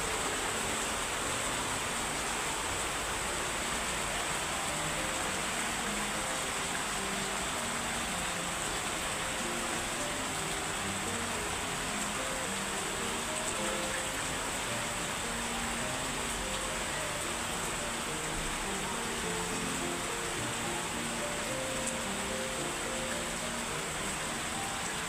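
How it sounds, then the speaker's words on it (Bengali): Sudden rain falls in a continuous, even hiss of broadband noise, steady and moderately faint, with no clear voices for the full duration. "হঠাৎ করে বৃষ্টিটা নামলো, এই দেখলাম কি রোদ, এখন হঠাৎ করে বৃষ্টি পড়তেছে।"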